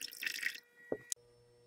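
Water poured and dripping during gold extraction from gold-plated connector pins after a hydrochloric acid step: a short trickling splash followed by a couple of distinct drips, faint and close, then near silence.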